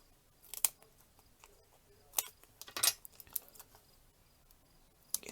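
Scissors snipping paper during an ink-smooshing card craft, a few sharp quiet snips and cuts spread irregularly across the stretch, close and otherwise near silent.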